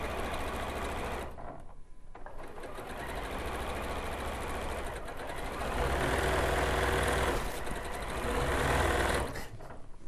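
Sewing machine stitching quilt pieces together, a fast, even mechanical whirr and rattle that pauses briefly twice before starting up again.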